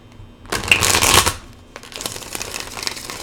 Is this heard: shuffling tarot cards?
yes